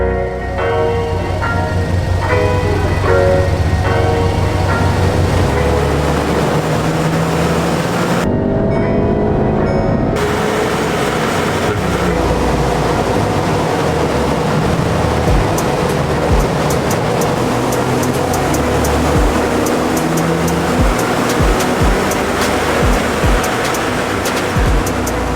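A VW Golf R Mk7.5 on stage 1 ECU and TCU tuning makes a dyno run, a loud, sustained engine roar that climbs through the revs, pauses briefly for a gear change, then keeps pulling hard.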